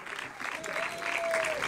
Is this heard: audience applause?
yes